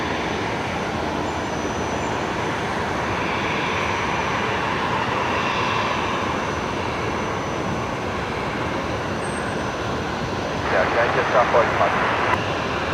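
A departing airliner at Brisbane Airport roars as a steady, broad distant rumble that holds throughout, with a brief clatter of handling noise near the end.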